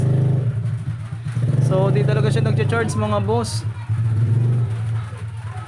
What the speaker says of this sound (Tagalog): yan ang ingay ng motor sa labas.